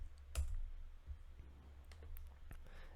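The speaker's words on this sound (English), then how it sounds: "we're just going to type in CSS" Keys on a computer keyboard are typed in a short, faint burst of clicks, a sharp tap near the start followed by scattered lighter presses over a low hum.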